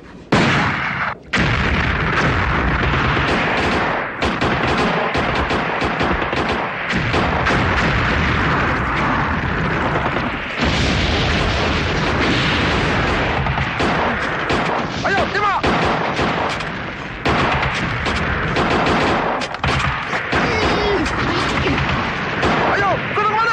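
Dense battle sounds of gunfire and explosions roll on almost without pause, loud and close, with heavy booms and shots layered over shouting voices in a war film.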